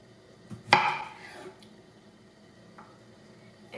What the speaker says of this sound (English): we start chopping them in large pieces and put them in the pot